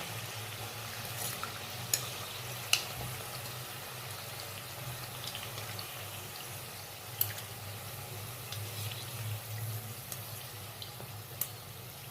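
Samosas fry in hot oil in a kitchen, giving a soft continuous sizzle broken by occasional sharp clicks as they are lifted out one by one.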